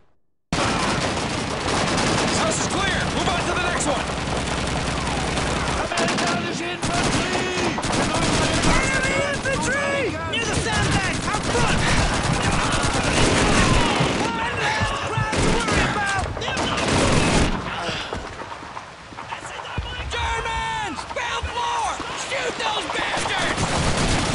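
Machine guns fire in Call of Duty 2, with dense, loud, near-continuous bursts and overlapping shots through a heated battle, over voices shouting amid the gunfire.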